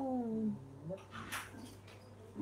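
A person imitates a cat's meow with a drawn-out, wavering vocal cry, followed by quieter mumbling and brief breathy sounds.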